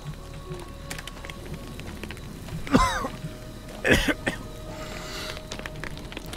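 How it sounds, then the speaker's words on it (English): A character in the survival horror game Maid of Sker coughs twice near a fire, two harsh hacking bursts about a second apart, over a soft rain-like hiss and faint background sounds. "You can't cough every time you get near a fire."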